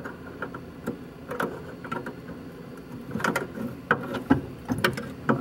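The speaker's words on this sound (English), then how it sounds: "I'm going to take my half inch wrench and my flathead, and this has got a little square nut on there." A half inch wrench turns a small square nut on a Ford power cowl vent, producing close, irregular metallic clicks and ratcheting ticks against a faint background hum.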